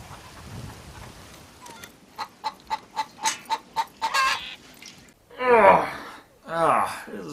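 Chickens in a chicken coop from a film cluck in a quick run of about eight sharp, evenly spaced calls, followed by a couple of louder, longer squawks after a brief pause.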